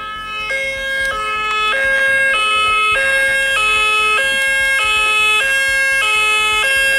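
An analog Whelen-style two-tone high-low siren plays through a Midland ER10VP radio, alternating steadily between two pitches in a loud, close, regular pattern with no talk.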